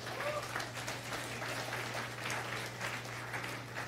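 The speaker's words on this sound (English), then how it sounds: "Let's give the Lord a clap offering." A church congregation breaks into sustained applause during a worship service, steady clapping filling the room for several seconds with faint voices underneath.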